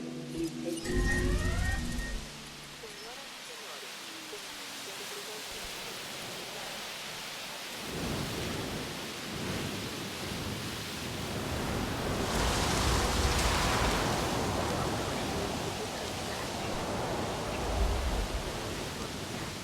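Heavy rain and rolling thunder sweep through a storm in the dinosaur park game Jurassic World Evolution, a dense hiss of downpour swelling and fading, with a deep rumble near the start and a louder gust of rain midway.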